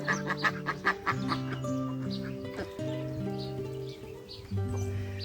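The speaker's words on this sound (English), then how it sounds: "Ducks are doing great in here with the chickens." Several chickens cluck and call close by in a pen shared with ducks, overlapping bursts over a steady farmyard background.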